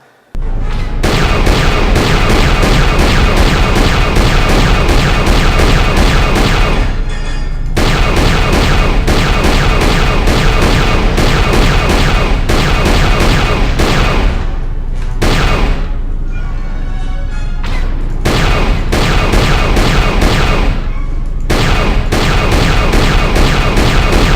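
Starship turret fire and laser hits roar through a space battle in Knights of the Old Republic II. The barrage is loud and dense, with booming impacts that continue almost without a break and drop out only briefly a few times.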